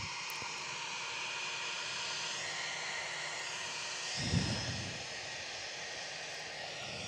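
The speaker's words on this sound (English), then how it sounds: "Cottesloe taxiing up with the 320." Airbus A320 taxiing at Perth Airport, a steady broad engine roar and hiss held close and loud throughout, with a brief low rumble swelling near the end.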